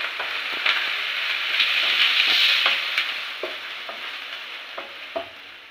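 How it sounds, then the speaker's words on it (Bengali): Spiced masala frying and being stirred with fish and potatoes in a pan, a steady close sizzle with repeated scraping stir strokes throughout, no voices. "এবার মশলাটা দিয়ে কষাচ্ছি"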